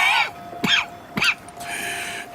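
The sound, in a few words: coughing, from a video game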